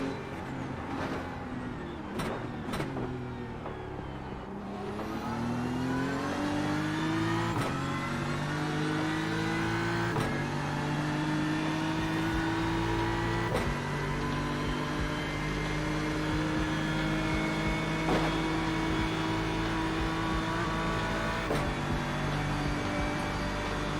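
Ferrari race cars at Bathurst in the iRacing sim, engines droning loud and steady with rising revs through gear changes and occasional sharp shift clicks, a continuous close-up roar throughout.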